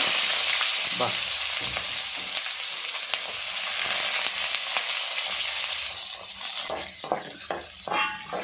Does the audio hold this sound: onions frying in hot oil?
yes